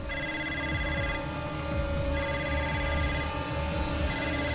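A telephone rings steadily and fairly close in a domestic drama scene, its tonal ring sustained over a low room murmur with no clear talk.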